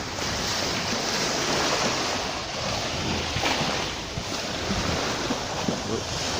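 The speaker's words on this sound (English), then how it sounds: "Sea's pretty calm." Calm sea waves wash steadily onto Hua Hin beach in Thailand at sunrise: a continuous, fairly loud surf hiss with gentle swells, mixed with wind buffeting the microphone.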